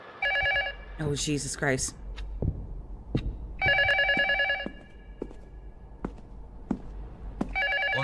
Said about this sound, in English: Would you please pick up the phone?